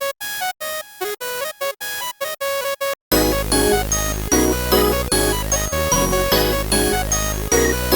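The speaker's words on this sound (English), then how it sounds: "it just gives it a super clean delay sound" A bright staccato synth lead plays a choppy melody through a Kilohertz delay plugin, the short notes echoing cleanly. After a brief gap, a loud full beat with heavy bass and layered instruments comes in.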